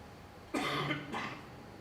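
A snooker player gives two quick, fairly close coughs in a quiet arena, each a short rough burst.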